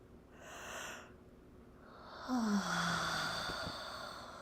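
A person exhaling slowly during a breathing exercise, an airy breath followed by a longer audible out-breath with a faint tonal hum over a quiet background.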